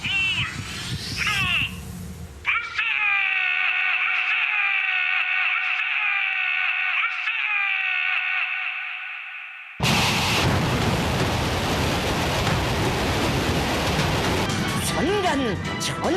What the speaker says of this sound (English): 천지를 태운다는 요란한 폭음과 함께 눈부신 화강이 지면을 불덩이같이 닳으며